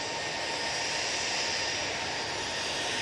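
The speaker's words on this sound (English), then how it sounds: "Ryanair to Palma de Mallorca, now on the roll." A Ryanair jet airliner on its takeoff roll at Manchester Airport gives off a continuous, even broadband engine roar. The sound is distant and steady, with no talk over it.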